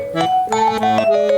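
A short run of bright, ringing chime tones, several struck notes in quick succession with sustained harmonics, loud and close.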